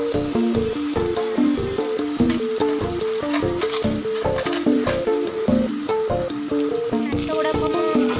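Masala-coated fish fries on a hot tawa with a steady, dense sizzle and crackle, plus repeated rhythmic clinks and scrapes of a utensil throughout.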